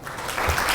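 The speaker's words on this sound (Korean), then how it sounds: "박수 계속 치게 해드려서 죄송합니다" A conference audience at PyCon APAC 2016 applauds, a brief, dense burst of many hands clapping together that grows slightly louder and continues to the end.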